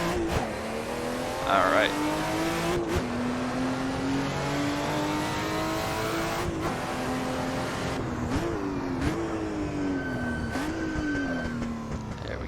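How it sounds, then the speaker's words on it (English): A Porsche 935 Moby Dick turbo race car in the Assetto Corsa video game pulls out of the pits at Monza, its engine climbing in pitch through repeated gear changes. A brief spoken remark comes over the engine noise. "Out of the pits at Monza. See that turbo kick in."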